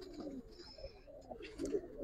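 Giribaz pigeons coo softly in short low throaty phrases, faint and close in a quiet space, with a little rustling around them.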